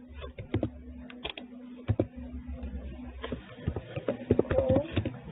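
Someone types a password on a computer keyboard with an irregular run of close, crisp key clicks, some quick bursts and pauses, over a low background hum.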